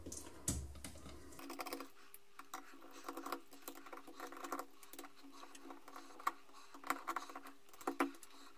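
Small screws being unscrewed from the gearbox shell of an S&T Armament M4KM airsoft electric rifle, giving a series of faint, close tapping and clicking sounds with short pauses between them.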